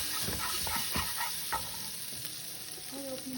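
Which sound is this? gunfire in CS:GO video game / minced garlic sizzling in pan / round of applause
minced garlic sizzling in pan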